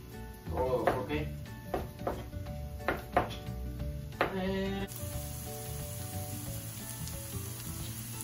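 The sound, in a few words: onion and chile sizzling while frying in a pan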